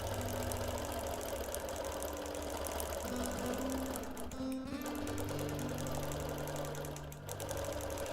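A longarm sewing machine quilting a wholecloth baby quilt runs as a steady mechanical hum throughout, with a brief dip in sound near the middle and no talking.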